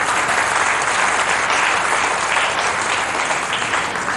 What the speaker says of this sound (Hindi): ओके, ऑल द बेस्ट, जोरदार तालियां।